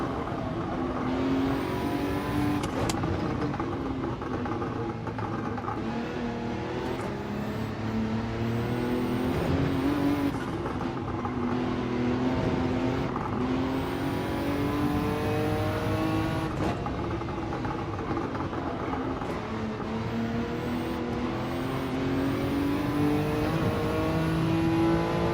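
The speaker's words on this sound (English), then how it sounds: "Tire noise." Race cars in Gran Turismo 7 roar continuously at close range, with engine and tire noise rising and falling in pitch as they pass and accelerate, steady and loud throughout.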